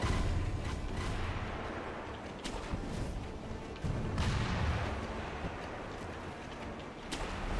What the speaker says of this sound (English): we've got all these guys shooting at us